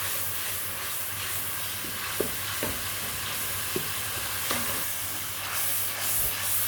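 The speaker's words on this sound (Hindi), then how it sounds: "तो अब इस मसाले को मैं अच्छी तरह से भून कर इसकी" Masala roasting in a pan for matar gosht, a steady hiss of frying with a few soft knocks as it is stirred, and a low hum running beneath; no one speaks.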